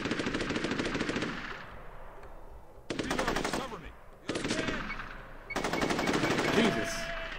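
Automatic gunfire in a video game, BGF - Unearthed, comes in three long rattling bursts separated by short pauses. The bursts are loud and close, with some speech-like noise mixed in.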